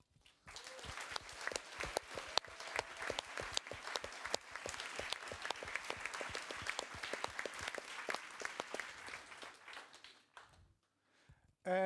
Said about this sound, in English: A very big applause for our speakers who make this event so interesting.